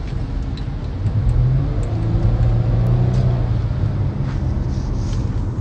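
A car engine revs loudly and close, a sustained low droning roar that swells and holds steady, with no talk over it.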